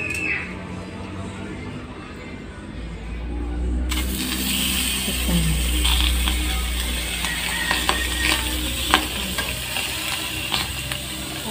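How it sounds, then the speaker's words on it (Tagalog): Frozen pork chop and beef tapa laid into a dry pan with no oil, a low hum giving way to a broad hissing sizzle that swells and stays steady, dotted with sharp pops and clicks. "Ilagay na natin tong pork chop at beef tafa with no oil."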